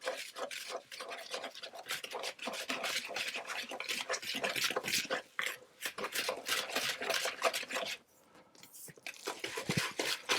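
Cookie ingredients for chewy oat and date cookies are whisked together in a bowl, a fast, close run of scraping, rattling strokes with a brief pause before the whisking resumes.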